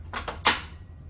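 The rip fence of a Dewalt table saw is locked in place with a quick sequence of two light knocks followed by a sharper, louder clunk, close by and then silent.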